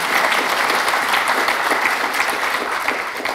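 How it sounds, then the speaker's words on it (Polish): Audience applause at a congress fills the hall, a dense steady patter of many hands clapping, loud and continuous with no talk over it. "Oklaski proszę."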